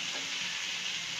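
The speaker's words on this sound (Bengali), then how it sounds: "ভর্তার পেঁয়াজটা দিয়ে দিলাম তেলের ভিতরে" Onion for a mash dish frying in hot oil, a dense, even hiss of sizzling that holds steady and close throughout the short stretch.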